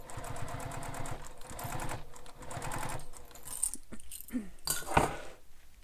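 A sewing machine stitches along a bag strap in quick rhythmic bursts for a few seconds, then gives way to clicks, taps and handling noises up close, with no talking.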